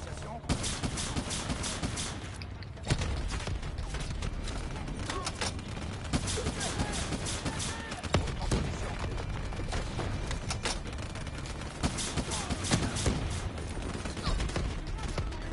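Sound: weapon gunfire in a video game

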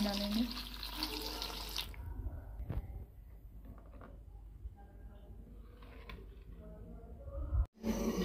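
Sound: cold water pouring into pot

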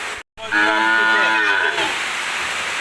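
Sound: cow mooing

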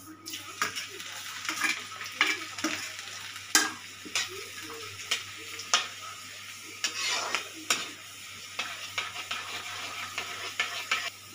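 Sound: garlic frying and being stirred with cumin in oil

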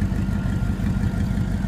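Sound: 1991 Chevrolet Caprice engine running with no exhaust

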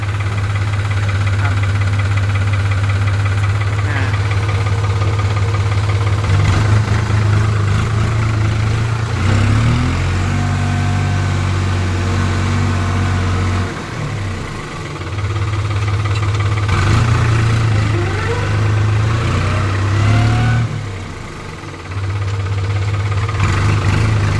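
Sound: tractor diesel engine idling

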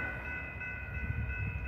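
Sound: BNSF 3748 locomotives running as light power

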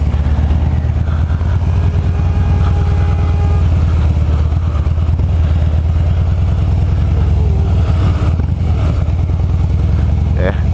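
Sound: Harley-Davidson motorcycle riding on the road

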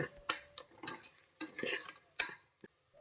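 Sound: stirring turmeric powder into masala in a pan

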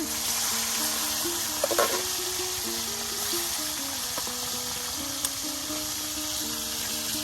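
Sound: tilapia fish frying in a pot

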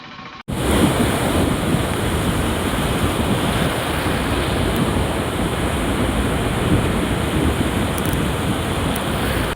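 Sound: waves surging on Krishnapatnam sea shore

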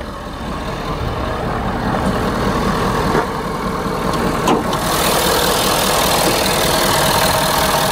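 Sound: diesel V8 truck engine idling

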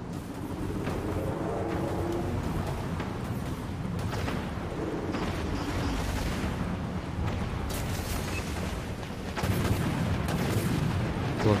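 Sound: ship cannon fire in the video game Dreadnought

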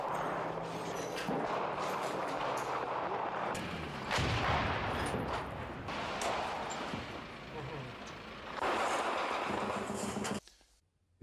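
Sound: artillery shelling in archival war footage, Bien Hoa base

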